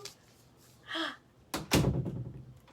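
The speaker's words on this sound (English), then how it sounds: "Close the door." A door swings shut indoors during a children's storytime, landing as one close thud followed by a rattling settle, with a brief creak or scrape just before it.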